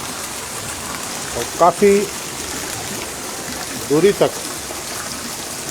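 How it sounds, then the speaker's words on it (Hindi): Heavy rain pouring over a town market area, a steady wash of rainfall and running water beneath someone speaking briefly twice. "तेज़ी के साथ बरसात"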